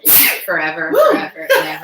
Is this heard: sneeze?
yes